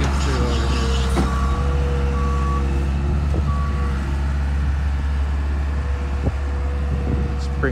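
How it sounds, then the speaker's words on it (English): A Case skid steer loader working on a grading site, its diesel engine droning loud and steady, with intermittent reversing beeps and a few clanks of the bucket. "and then the case skid steer loader here."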